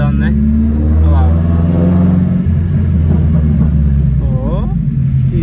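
A carbureted car with a Fueltech wideband gauge accelerates on the road, its engine droning loudly from inside the cabin with a rising pitch and small swells. Someone talks briefly over it.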